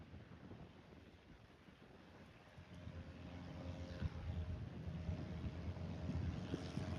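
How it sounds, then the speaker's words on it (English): Wind rushes and buffets the microphone, building from a moderate hiss to a louder, rougher roar over several seconds. "It's pretty windy."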